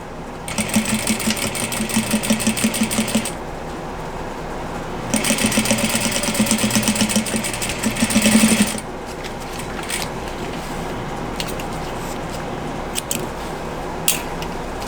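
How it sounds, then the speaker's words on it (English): A sewing machine stitches across plaid fabric in two loud, close runs of fast rhythmic whirring separated by a short pause, followed by quieter handling and light clicks. "And sew all the way across."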